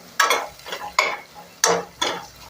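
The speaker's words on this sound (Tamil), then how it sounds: "இப்போ இதெல்லாம் வதங்கி வரட்டும்" Pepper, cumin and tomato sauté in a pan for tomato rasam, four sharp rhythmic stirring scrapes of a spoon against the pan over a soft sizzle.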